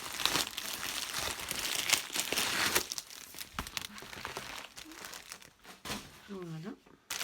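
Plastic packaging of a diamond painting kit crinkling and tearing open up close, with rustling bursts and short rips as a voice talks over it at times.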